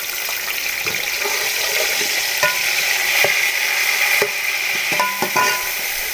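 Steady frying sizzle with crackling and occasional stirring clicks, a pan of tomatoes and onions cooking close by, no voices.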